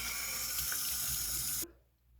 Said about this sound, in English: I just rinse my face with some cold water